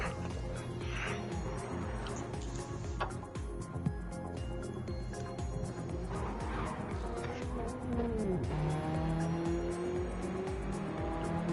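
Racing car in a video game driving hard, continuous engine drone with rising and falling tire squeal near the end, steady and fairly loud throughout.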